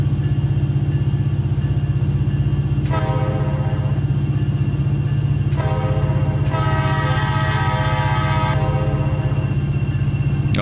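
Coal train hauled by SD70ACe locomotives at 11 mph, a constant heavy rumbling drone of engines and rolling cars, with several long, loud horn blasts sounding close by partway through.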